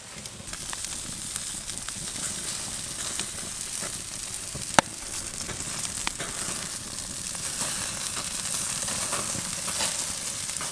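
Lobster tails basted with garlic butter sizzle on a wood fire grill, giving a loud, continuous frying hiss scattered with sharp pops and crackles, including one prominent snap near the middle.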